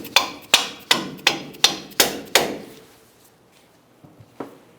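Sharp hammer blows knocking a strut bolt through the front suspension of a 2004-2012 Chevy Colorado, seven evenly spaced metallic strikes in quick succession, loud and close, followed by quieter faint taps.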